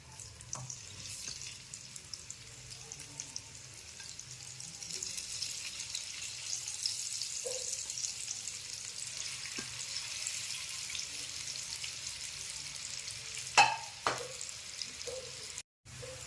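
Grated raw potato fries in a pan over a full flame, giving a steady low sizzle throughout with a few scattered clicks and a louder scrape near the end.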